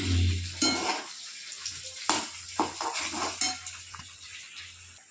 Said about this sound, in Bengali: সেদ্ধ করা আছে আলুগুলো, অল্প ভাজলেই হবে।